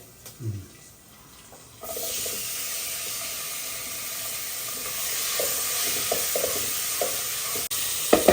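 Tomatoes fry in a hot pan, a bright crackling sizzle that starts after a quiet moment and then holds steady, with a few light scraping clicks of stirring.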